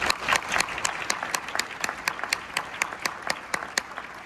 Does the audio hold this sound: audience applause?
yes